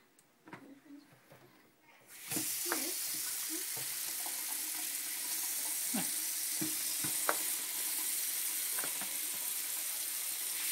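Water runs steadily into a container for a pink Kool-Aid drink, a constant splashing rush that starts abruptly and continues, with a few soft clinks and light knocks.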